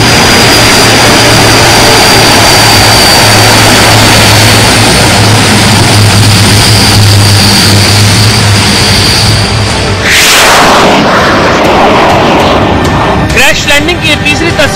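Aircraft engine roaring steadily during a crash landing, diverted off the runway onto open ground; a loud sustained jet-like drone with a low hum, then a sudden broadband burst of rushing noise near the end.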